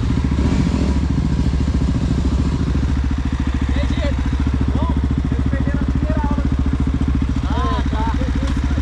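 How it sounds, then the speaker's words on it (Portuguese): A motorcycle engine starts and settles into a steady, loud idle with a regular low throb, close by, with occasional clatter and faint chirps in the background. "Partida da moto."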